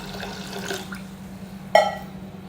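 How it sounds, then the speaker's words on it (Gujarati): Water poured into a pressure cooker over soaked dried peas, a steady close trickle and splash under a low hum, ending with a sharp clunk near the finish. "એની સાથે પાણી પણ એડ કરી દઈશું"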